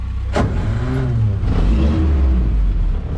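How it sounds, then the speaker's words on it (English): An old Jeep engine cranks with a sharp click, catches, and settles into a low, rough idle that swells into a revving rumble. "This is what it's like to be on a really old Jeep. Okay, so it's gonna make some noise"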